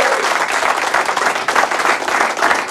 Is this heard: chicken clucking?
no